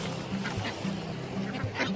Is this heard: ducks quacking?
yes